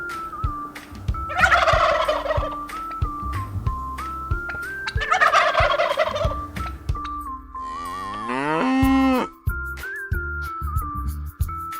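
A turkey gobbles loudly in two rattling bursts, followed by a separate drawn-out call, over a bouncy children's tune with whistled melody.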